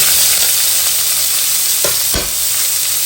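Onion added to a hot mustard-seed and curry-leaf tempering fries with a steady loud sizzle, broken by a couple of brief stirring scrapes near the end.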